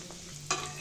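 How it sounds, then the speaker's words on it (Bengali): Chicken vegetable rolls frying in oil give a soft, quiet sizzle, with a brief scrape or stir sound partway through. "রোলগুলো এক পাশ ভাজা হয়ে গেছে, আর পাশ উল্টে দিব।"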